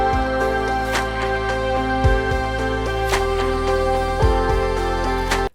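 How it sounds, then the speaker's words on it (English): An ambient music track reaches its dense climax before master bus processing, with sustained layered tones, deep low drones and occasional sweeping swells and bass drops, loud and continuous until a sudden cutoff at the end. "So the climax of this track before it goes through any of the master bus chains sounds like this."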